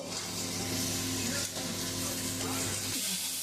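Fish curry masala with chilli powder is stirred in a hot pan, a close, continuous sizzle with scraping stir sounds and a faint hum beneath.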